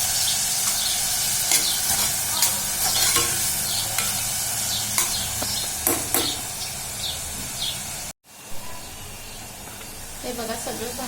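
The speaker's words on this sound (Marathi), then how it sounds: "कांदा थोडा परतून झाल्यावर टॉमॅटो आणि शिमला मिरची घालायची बघा" Onion, tomato and capsicum fry in a pan for pav bhaji, with a continuous sizzle and repeated clattering scrapes of stirring. The sound cuts out briefly near the end, then resumes more quietly.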